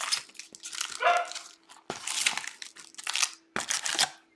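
A dog barking in repeated loud bursts, three clustered groups of barks close by, indoors during a baseball card breaking session.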